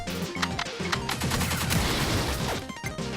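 Grenade blasts and rapid gunfire crackle in the video game Pineapple Smash Crew, a dense burst of sharp explosive hits and crashes over a looping electronic soundtrack, with no voices.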